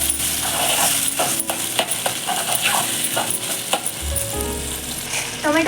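Tomatoes sizzle and fry in a hot pan for egg curry, a steady hiss with scattered clinks and stirring knocks, close and continuous without talk.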